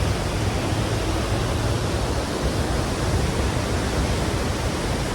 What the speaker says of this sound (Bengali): আমি জানি না আমার কথা ঠিক মতো বোঝা যাচ্ছে কিনা ঝর্ণার আওয়াজে